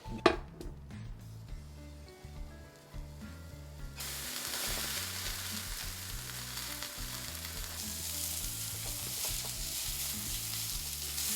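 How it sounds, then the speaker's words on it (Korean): A few clattering knocks, then a loud steady sizzle as vegetables for japchae hit a hot pan and are stirred, with occasional scraping underneath. "이제 요 채소를 하나 살짝 살짝 얼른 얼른 볶아야 돼"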